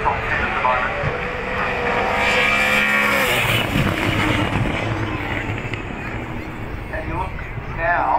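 V8 Supercars racing at Bathurst 1000, a continuous loud engine roar sweeping past with a falling pitch, then a blurred drone of distant cars under a commentator's voice.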